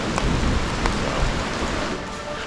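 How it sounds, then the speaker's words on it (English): Heavy rain pours steadily on a tent at a Grand Canyon campsite near Havasupai, a dense hiss of drops drumming on a nearby surface with no pauses and no voices. "It's raining so much now."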